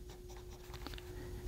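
A Jinhao 86 fountain pen with a fine nib scratches across Rhodia paper in short, soft strokes, a faint papery hiss under steady background noise.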